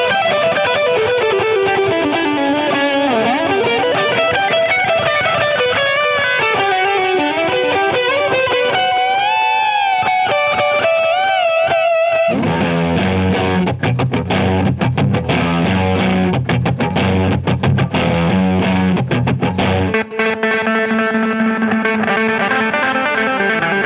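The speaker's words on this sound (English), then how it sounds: "That's my amp, and it sounds like this." An electric guitar runs through an amp and pedal setup, first with shimmering effected melodic lines, then switching to loud, heavily overdriven chugging chords before easing into a sustained tone.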